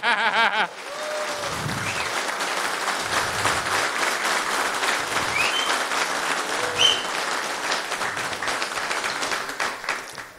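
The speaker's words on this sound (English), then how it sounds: "let's get a round of applause to interfere with this thing" A conference audience breaks into sustained applause after a talk, dense clapping from many hands that stays at a steady level for several seconds, mixed with a few chuckles and faint murmurs from the crowd.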